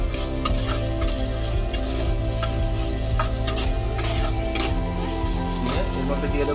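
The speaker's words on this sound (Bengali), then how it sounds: "আমরা এইভাবে 5 মিনিট ভালো করে ভেজে নেব।" Vegetables and peas frying in a pan for veg dal, a steady close sizzle with repeated scraping and clinking of a spoon stirring throughout.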